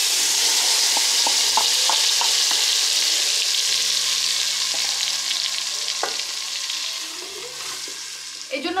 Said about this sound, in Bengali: এই যে মাছ ভাজির যে তেলটা অবশিষ্ট আছে ওইটা দিয়ে কিন্তু আমি মশলাটাও কষায় নিব